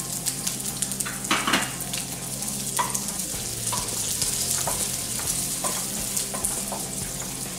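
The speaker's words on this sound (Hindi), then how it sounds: "अब हम प्याज को भून लेते हैं प्याज में कढ़ाई में डालती हूँ उसमें मुझे थोड़ा सा ऑयल डालना है" Onions fry in a little oil in a kadai for a masala egg curry, a continuous close sizzle broken by spatula scrapes and metal clinks against the pan as they are stirred.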